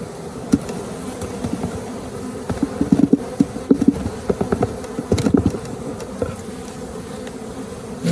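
A honeybee queen pipes inside a natural-beekeeping hive during a spring inspection, with short tonal toots rising through a dense, steady buzz of the colony, heard close.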